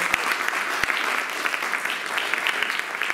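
A church congregation applauding and cheering for the Lord, a dense, continuous roar of clapping from many people close by.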